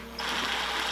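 A ratchet snugging water pump bolts on a Miata, a quick burst of rapid close metallic clicking lasting under a second.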